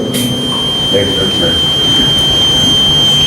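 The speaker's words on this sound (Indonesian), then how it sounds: "Ini alarm apa?" A steady, high electronic alarm tone hums faintly and continuously under muffled room noise during an Islamic religious lecture.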